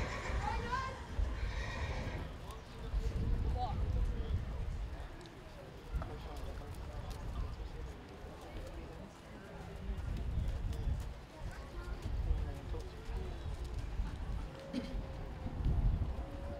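Horses walk and whinny and neigh repeatedly outdoors during a 4-H horse and pony equitation class, with hooves faintly clopping and people talking in the background.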